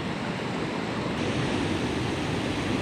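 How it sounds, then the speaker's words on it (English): A hidden waterfall on an inlet creek at Hosmer Lake, Oregon, pours as a constant, full-bodied roar of rushing water, close and loud, with no talking over it. "taking a closer look at the waterfall"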